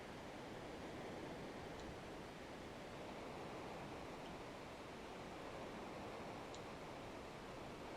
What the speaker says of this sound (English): Because you're going to jump down the waterfall.